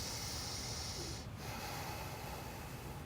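A deep, steady inhale through the nose during a gentle beginner yoga practice, a soft breathy rush lasting about three seconds, quiet and close with no talking.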